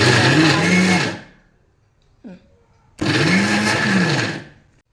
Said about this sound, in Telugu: ఇందులోకి తగినన్ని వాటర్ పోసుకొని మిక్సీ ఆడించాలి